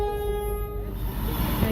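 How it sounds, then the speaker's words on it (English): A loud, sustained train horn blast in Queensland, sounded near a residential platform, holding a steady tone, fading into rumbling rail noise. "the blasting of train horns is driving them mad"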